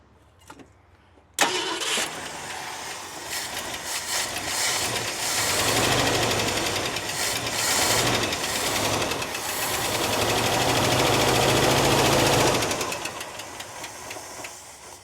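After a few faint clicks, the engine of a 1971 Ford F350 crew cab pickup, fitted with a used ignition coil, cranks and catches, then runs loud and rough with a knocking, rattling idle before shutting off.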